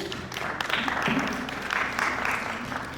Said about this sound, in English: let's give another round of applause for Charlene